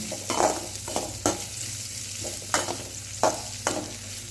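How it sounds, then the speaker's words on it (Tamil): Chopped onions sautéing in a pan for sambar, a continuous soft sizzle broken by regular scraping strokes of a spatula, close and moderately loud, without speech. "வெங்காயம் பொன்னிறமாக வர வரைக்கும் வதக்கிக்கலாம்."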